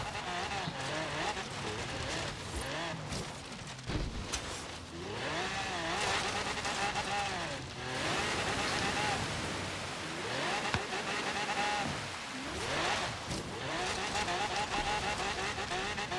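Ferrari F40 racing cross-country in Forza Horizon 3, its engine revving and shifting in rising and falling sweeps, with tyre skids and scrapes throughout, loud and continuous.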